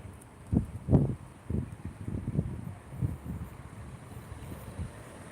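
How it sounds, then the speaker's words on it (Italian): Gusty storm wind buffets the microphone in low rumbling bursts, strongest at the start and then fluctuating steadily in the background, heard from a fourth-floor vantage. "Forte vento e forte pioggia"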